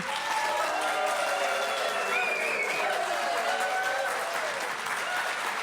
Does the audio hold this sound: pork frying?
no